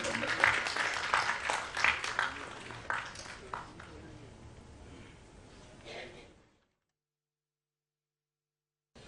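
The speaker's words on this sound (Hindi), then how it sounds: "जोरदार तालियों से अभिनंदन करते हैं।" Applause at a press club award felicitation in Madhya Pradesh, a loose burst of clapping that is strongest at first, thins out, and cuts to silence after about six seconds.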